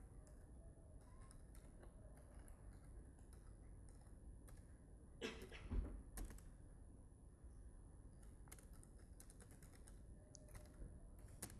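Quiet, steady typing on a computer keyboard while writing a small hello program in the vi editor on Linux, a continuous patter of soft key clicks with one louder clack near the middle, no talking.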